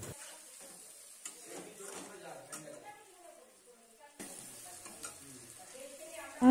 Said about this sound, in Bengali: মাছের তেল দিয়ে আলু আর মশলা কিন্তু খুব সুন্দর করে কষানো হয়ে গেছে